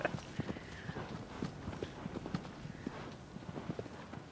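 Horse hooves gallop in Shadow of the Colossus, a fast, steady clip-clop rhythm that stays faint and distant behind a soft background wash.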